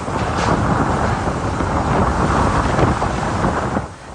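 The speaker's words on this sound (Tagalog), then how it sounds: "Ramdam sa mga bidyong kuha kahapon ang hagupit ng hangin sa Basco" Typhoon Julian's strong wind and rain batter Basco, Batanes: a dense, continuous roar of gusting wind buffets the microphone, loud and unbroken throughout, with no voices.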